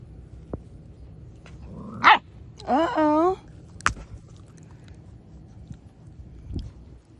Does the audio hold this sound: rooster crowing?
no